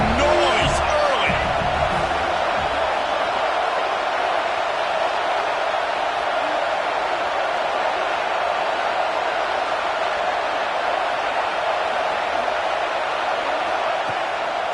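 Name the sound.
football stadium crowd noise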